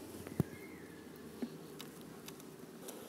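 Honey bees buzz around a beehive frame during a hive inspection, a faint, steady insect hum close by with a couple of soft knocks and no talk.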